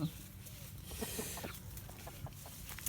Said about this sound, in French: là le coq, monsieur le coq, qui vient dire bonjour